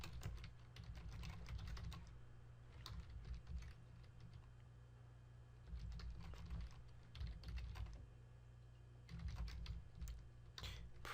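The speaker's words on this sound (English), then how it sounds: "let me finish typing this." Steady typing on a computer keyboard while writing C code, with fast clustered keystrokes in bursts separated by short pauses. It sounds close but soft over a low background hum.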